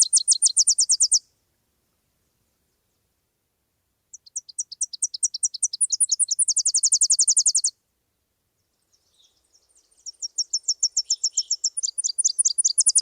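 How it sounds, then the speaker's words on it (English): Tennessee Warbler song: three bursts of high, thin, rapid chips, each speeding into a fast trill, clear and isolated against silence. "So that's the Tennessee Warbler."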